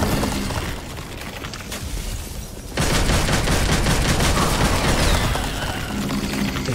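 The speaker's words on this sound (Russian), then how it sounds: "И почему он сейчас так быстро не стреляет?" Rapid gunfire bursts and booming shots from the action video game Devil May Cry 5, loud and dense, growing heavier partway through with a continuous barrage of shots.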